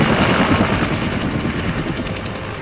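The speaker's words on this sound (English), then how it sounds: "the unmistakable sound of a Huey triggers memories for those who serve" A Vietnam-era Huey military helicopter fills the scene with a loud, dense, continuous rotor thumping and engine roar, close and steady throughout with no voices.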